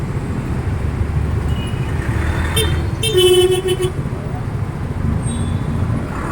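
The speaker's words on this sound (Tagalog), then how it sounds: "nandito sa Top Avenue ang traffic" Road traffic on Top Avenue: a steady rumble of engines and passing cars that stays level throughout, with a brief horn toot around the middle and faint voices mixed in.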